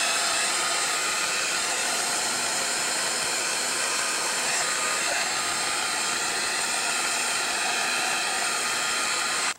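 A heat gun blows a constant loud roar while melting ultra thick embossing enamel, holding steady throughout and cutting off abruptly at the very end.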